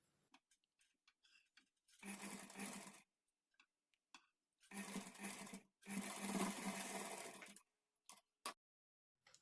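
Sewing machine stitching piping onto a lined blouse, running in two long bursts separated by short pauses, with small clicks and handling noises between runs.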